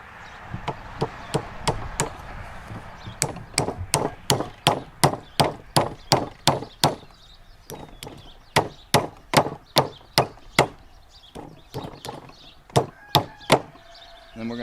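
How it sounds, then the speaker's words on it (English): A hedge wood wedge hammered into the slot of a splitting maul handle: many sharp, close wooden knocks in steady bursts, about two or three per second, with brief pauses between sets. "I made a little wedge out of hedge, a wood wedge, and I'm going to drive that in this slot"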